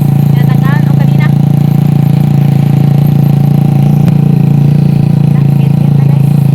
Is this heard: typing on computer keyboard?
no